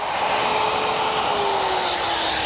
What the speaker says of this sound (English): Now I'll just complete it with my jigsaw.